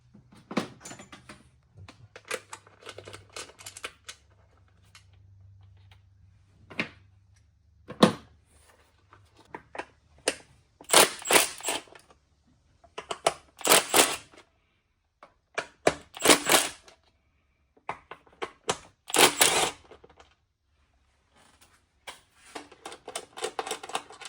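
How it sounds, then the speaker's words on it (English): A plastic clip is worked free on the engine of a 2024 Acura Integra Type S during a valve cover install, giving sharp clicks, snaps and rattling knocks in irregular clusters with quiet gaps between them. "I guess the next stuff we're going to do is remove this clip back here."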